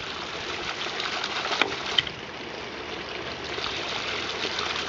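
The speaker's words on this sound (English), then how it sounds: "Hydraulic rim pump in operation." A hydraulic ram pump runs with water streaming and gushing steadily. The flow is continuous and fairly loud, with a couple of brief clicks or knocks and no talking.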